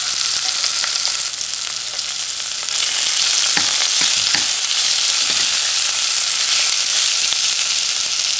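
Ginger garlic paste fries with onions in a pan for a curry, a loud close steady sizzle that grows after a few seconds, with occasional stirring scrapes and taps against the pan.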